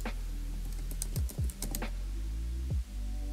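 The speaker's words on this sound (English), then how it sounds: "type in the password of your Netflix account" A few quick, light key taps on a computer keyboard as a password is entered, sparse and close, with short pauses between clusters and no talking.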